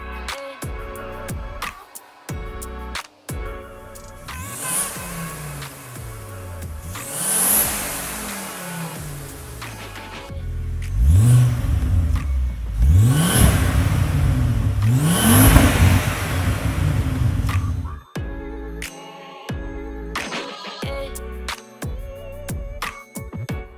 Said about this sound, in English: see how that exhaust sounds